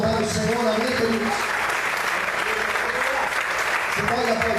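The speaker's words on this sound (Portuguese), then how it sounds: "Você pode aplaudir e exaltar o Senhor, amém, queridos?" A church congregation applauds steadily, a continuous wash of many hands clapping, with a voice speaking over it at the start and end.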